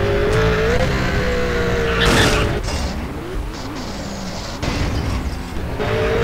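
A car driving in the video game GTA San Andreas: a steady engine drone shifting in pitch as it revs and eases, with brief bursts of tire and skid noise, loud and continuous.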